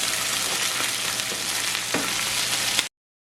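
Banana blossom stir-fries with shallots and curry leaves in a pan over medium heat, giving a steady, close sizzle with light stirring scrapes. The sizzle cuts off abruptly near the end.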